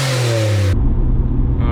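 An R32 Nissan Skyline GT-R with a twin turbo engine, Tomei manifolds and HKS elbows gives a loud, close rev that cuts off sharply partway through, leaving a lower rumble.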